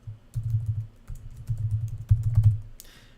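Computer keys are typed in quick bursts, close and fairly loud, with brief pauses between runs of clicks and a short whoosh at the end, with no talking.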